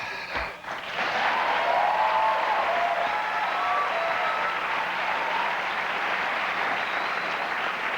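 Applause from a late-night TV show's studio audience swells after a brief knock and holds loud and dense for several seconds, then gradually softens toward the end.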